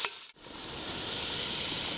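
Onion hits a hot camp oven and sizzles, a brief drop followed by a broad, steady hiss that swells and holds loudly up close, with no talking.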